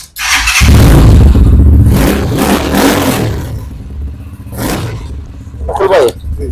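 A Rusi XL v7 motorcycle engine revving loudly nearby, a rough roar that surges, drops back and rises again in bursts, with people talking in between.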